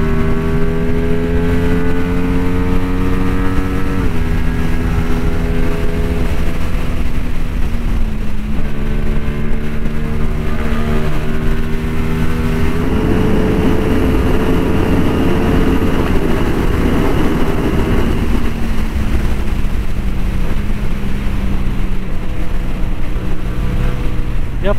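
CF Moto 450 SR motorcycle accelerating hard at high speed, engine note climbing through several gear shifts in a rising, dropping, rising pattern over loud steady wind roar.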